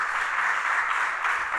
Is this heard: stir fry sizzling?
no